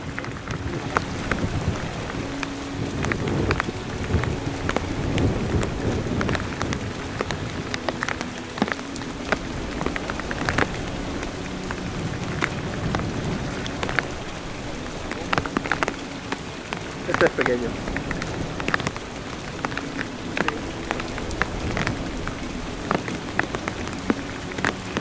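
Incessant heavy rain drums on surfaces during a hunt in a downpour, a dense, continuous patter with faint thunder rumbling underneath and occasional voices in the background.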